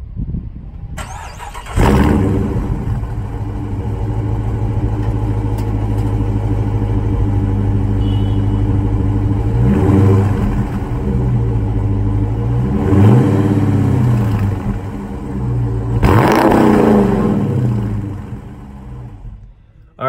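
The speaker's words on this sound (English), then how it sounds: "I'll show you guys an ignition clip right now with some revs" A 2019 Dodge Charger R/T engine cranks and fires up, settles into a deep idle, then revs loudly three times in sharp bursts before falling back.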